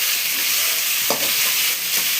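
Tomato hits a hot pan of frying ingredients and sizzles under steady stirring, with a constant close hiss and a brief sharper splash as it goes in; no talking.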